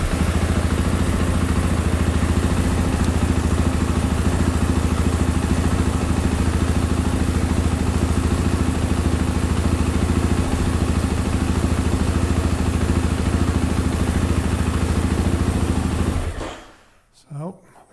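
A Kawasaki Mule utility vehicle engine runs at a steady, loud idle with a mechanical clatter and whir, close by, before cutting off abruptly near the end.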